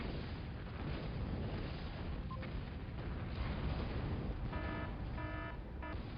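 Artillery fire from the Total Annihilation video game forms a dense, continuous rumbling barrage of blasts, with short tonal beeps cutting through near the end.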